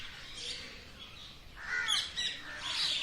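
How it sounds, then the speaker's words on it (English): Parrots chattering and other birds singing at Chinta Haran Ghat in Gokul, Vrindavan: harsh squawks and calls overlapping in bursts, with chirps scattered over a faint outdoor background, no talking. "all the parrots are chattering and the other birds singing"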